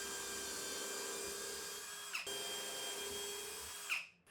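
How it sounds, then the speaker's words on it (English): A power drill pre-drills holes in walnut for a knife rack, whining steadily at a fairly faint level, with a short stop and restart midway and a final wind-down. "I then pre-drill all the holes"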